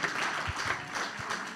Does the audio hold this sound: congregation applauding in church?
yes